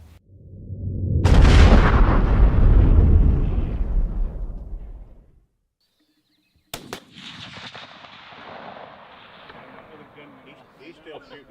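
Gunfire aimed at a steel plate target on an outdoor range: a loud shot burst with a long rolling decay, then after a silent gap a sharp crack and fainter reverberant noise trailing off.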